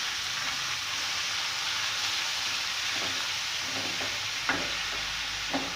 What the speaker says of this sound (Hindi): अब इसमें मैं ये कीमा डालकर बहुत अच्छी तरह कीमे को भून लूँगी